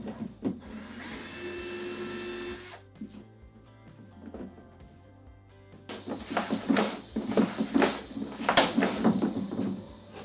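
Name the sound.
pumping the boat's tank to find a leak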